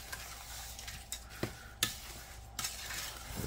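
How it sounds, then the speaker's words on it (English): Granulated white sugar mixture for monkey butter is stirred with a utensil in a pot, giving a faint, continuous grainy scraping with a few soft knocks against the side, quiet and without talk. "We're just mixing up at this moment because we got one more ingredient to add in here"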